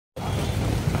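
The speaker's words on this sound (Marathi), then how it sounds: "हा पाऊस बघा किती जोरात चालू आलाय" Heavy monsoon rain pours down in a dense, continuous hiss that starts abruptly and holds steady, loud and close, with no voices over it.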